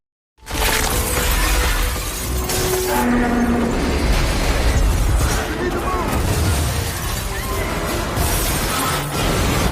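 A coin tower collapses and shatters during an earthquake in a film scene, a continuous loud crash of breaking, clattering debris and rumbling destruction lasting throughout without pause.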